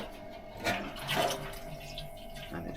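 Mash out water pouring into a vessel during home beer brewing, heard as a low, steady wash of running water with two brief louder surges near the start.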